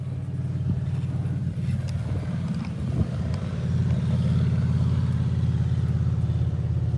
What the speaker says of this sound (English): This sounds like a motorcycle.